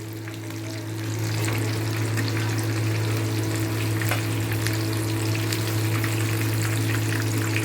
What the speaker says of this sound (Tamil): நம்ம இப்போ ஒரு மூணு பீஸை நம்ம வந்து பொறிச்சு எடுத்துருக்கோம் சட்டியில் இருக்கிற எல்லா பீஸையுமே நம்ம அதே போலேயே நம்ம பொறிச்சு எடுத்துக்கலாம்